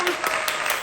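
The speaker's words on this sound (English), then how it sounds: "let us give a round of applause" A brief burst of applause, a short crackle of clapping from a small crowd that is loud and close and fades out within a second.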